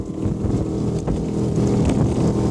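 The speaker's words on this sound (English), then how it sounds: "And then there's that rumble from the engine." A Cormate T27 Supermarine petrol motorboat runs at speed, its engine a deep continuous rumble close by, mixed with wind buffeting and water rush.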